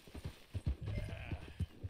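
Horse hooves clip-clop in Red Dead Redemption 2, a run of soft, irregular thuds at close range with a low rumble underneath and no speech.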